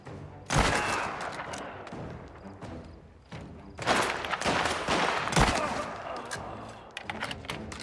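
Gunfire in the video game Mafia The Old Country: loud, close bursts of rapid shots and fusillades in irregular clusters, with heavy thumping impacts between volleys.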